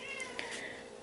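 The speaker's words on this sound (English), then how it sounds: "ignore the meowing. My cat just wants a lot of attention." A pet cat gives a soft, brief meow in the background indoors, faint against a low steady room hum.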